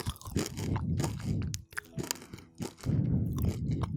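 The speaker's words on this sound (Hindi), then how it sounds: "देखें इसका क्रंचीपन।" Crunchy fried daal moong nimko being chewed close up, with loud, continuous crisp crunching and biting, brief pauses between mouthfuls.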